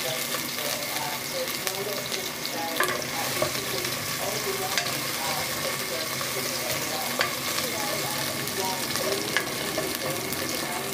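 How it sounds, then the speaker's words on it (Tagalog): Onions frying in a hot pan sizzle continuously with sharp splattering pops, close and steady throughout, while a voice speaks over the cooking. "ilalagay na natin yung sunod yung sibuyas. Ayan, matalsik talaga, no?"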